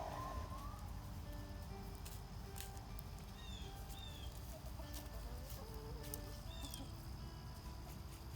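Chickens cluck softly here and there near a quail pen against a steady background hum, with occasional small chirps from birds nearby.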